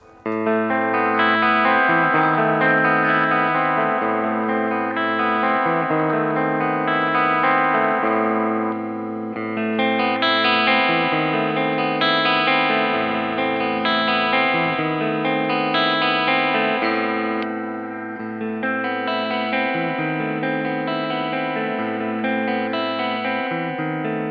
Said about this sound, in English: you can hear some clean arpeggios in the next clip